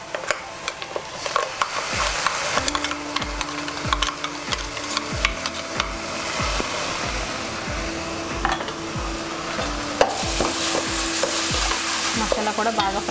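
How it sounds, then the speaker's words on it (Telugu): Ground masala paste for a pomfret fish curry fries noisily in a pan, a dense close sizzle with brisk, repeated spatula scrapes and taps and a steady low rhythmic thump, without any voices. "మసాలా కూడా బాగా ఫ్రై అయిపోవాలి, పచ్చివాసన రాకుండా."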